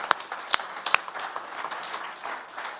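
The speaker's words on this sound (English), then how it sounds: "Come on, give the Lord a hand clap of praise" A church congregation claps in praise during a sermon, a steady wash of many hands with a few sharp, close claps standing out, without talk.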